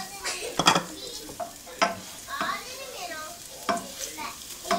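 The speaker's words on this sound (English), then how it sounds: "And I'm going to add my garlic first." Garlic sizzles in a generous pool of hot coconut oil for a chickpea and yucca curry, a steady crackling fry broken by several sharp stirring scrapes and clinks of a utensil against the pot, close and fairly quiet.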